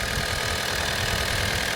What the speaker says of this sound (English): So this is a diesel engine, so that's a D-4D